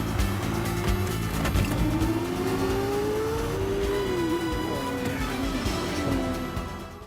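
A racing car engine revving high, around 7500 rpm, in a film race scene, its pitch climbing and falling across the clip over a dense mix of engine and track noise, loud and continuous.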